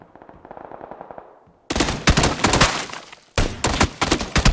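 Gunfire in the video game PUBG: loud, dense bursts of automatic fire up close, coming in two long volleys after a quieter, muffled stretch.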